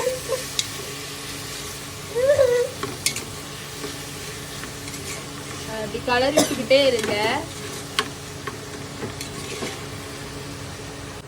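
Onions sizzle and fry in a pan at a home cooking session, slightly burnt, with scraping stir strokes in short bursts over a steady hiss while someone talks.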